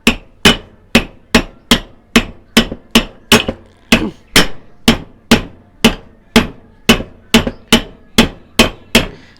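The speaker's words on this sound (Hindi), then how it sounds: "जैसे कि ये साइड सिर्फ इसे लगा देना है और ठोक देना है" Hammer driving a new bearing into a ceiling fan, about twenty sharp metallic blows at a steady, unhurried beat, loud and close with no voices between strikes.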